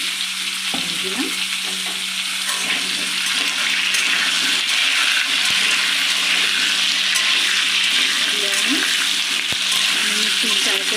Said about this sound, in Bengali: একদম লাল লাল করে আমার আলুগুলো ভাজা হয়ে গেছে।